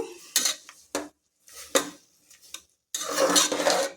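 Carrot halwa stirred with thick milk in a metal pan, a spoon scraping and clanking in irregular bursts separated by short silences, ending in a longer run of busy stirring.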